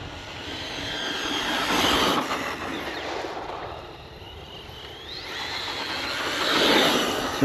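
An RC car electric motor winding up with a rising whine, swelling to a peak, easing off, then surging loudly again, heard outdoors from a moderate distance with no talking.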